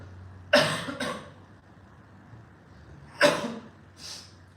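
A man with a lingering cough after COVID coughs twice, each time in a sharp burst followed by a softer second cough, with quiet pauses between the bouts.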